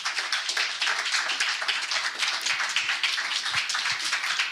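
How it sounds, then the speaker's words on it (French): Steady, dense applause from a church congregation fills the whole stretch, a continuous patter of many hands clapping without pause and with no voices on top. "Acclamons notre Seigneur Jésus-Christ pour cela."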